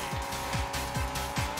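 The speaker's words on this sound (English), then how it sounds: "Oh, that's a good drift." Arcade car drifting in Hotshot Racing, a steady engine drone with repeated rising-falling squeals and whooshes at a quick regular rhythm, close and fairly loud.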